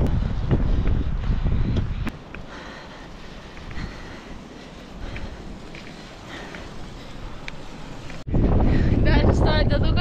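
Wind gusts buffet the microphone on the Grimsel mountain pass in Switzerland, a loud rushing roar at the start that drops to a steadier lower blowing before surging back hard near the end.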